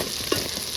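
Chopped onion dropped into hot oil in a pan, a brief steady frying hiss with one soft bump, heard close and alone.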